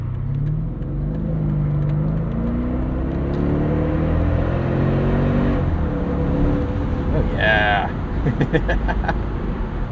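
A 2007 Mercedes-Benz SL550 engine drones steadily while driving, its pitch rising as the car accelerates under steady road noise, with a brief spoken remark near the end.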